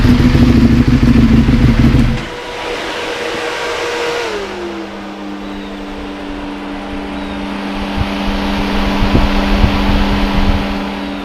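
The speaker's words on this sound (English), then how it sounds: "those fans will stay on as long as the engine, the computers think that it needs to cool the engine down" Cooling fans on an EBR motorcycle keep whirring after the engine is shut off: a loud engine rumble cuts out at about two seconds, then a steady electric fan hum with a pitch glide settles in and runs on alone.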